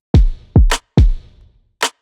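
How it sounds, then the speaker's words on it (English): Pop-production kick drums layered with a big stomp hit: three deep, booming thumps with long decays, each answered by a sharp, bright stomp-like crack, ending on a lone crack, loud and dry with no voices. "layer that over some of these kicks so it feels like a nice big stomp"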